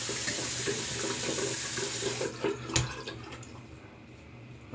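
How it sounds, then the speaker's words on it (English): Water runs steadily from a tap while a shaving brush is rinsed under it, a close, continuous hiss that ends abruptly partway through, leaving only faint room sound. "Rinse that brush out."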